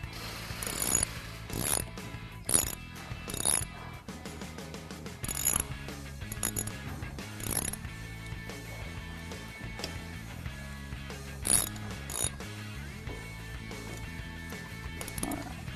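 Ratchet clicking while tightening brake caliper bolts on a sport bike during a Galfer brake pad installation, with repeated bursts of mechanical ratcheting and metallic tool sounds, close and steady with no talking.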